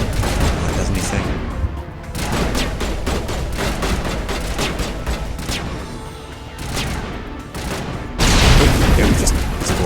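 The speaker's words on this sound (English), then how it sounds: "Yeah, throw a grenade." Explosions and gunfire from a Mass Effect firefight, a grenade blast among continuous loud battle noise with repeated booms, a heavier burst near the end.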